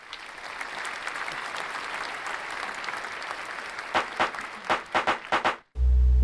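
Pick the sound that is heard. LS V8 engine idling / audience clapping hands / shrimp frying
audience clapping hands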